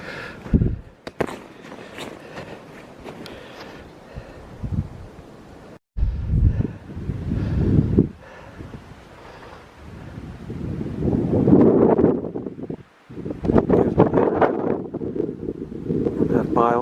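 Strong winter winds buffet the microphone on a snowy mountain summit, with heavy roaring gusts that surge and drop off abruptly across the stretch, and a voice briefly heard between blasts.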